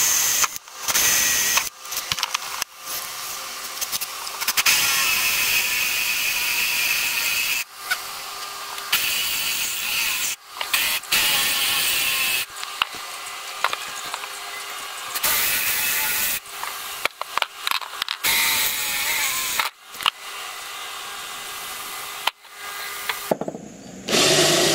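A drill bores holes into an old metal brake rotor being made into a trivet, starting with a small pilot hole, in long loud grinding runs broken by brief stops, with no talking.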